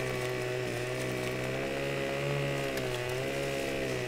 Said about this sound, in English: turn your chainsaw back, and you run down the length like this, and that chops up all these branches.